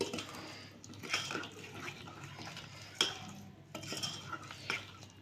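A ladle stirs fenugreek and other spices through hot oil for a mango, carrot and beetroot pickle, giving soft scraping and clinking strokes at a close, moderate level.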